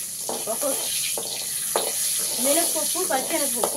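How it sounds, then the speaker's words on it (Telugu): Mustard seeds and lentils crackle in hot tempering oil over a low flame, a steady sizzle broken by quick pops and spits, with a person talking over it. "ఈ తాలింపు వేగేటప్పుడు మంట స్లోగానే పెట్టుకోవాలండి"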